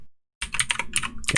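A quick run of computer keyboard keystrokes as a folder name is typed, close and crisp, a short burst of clicks after a brief silence.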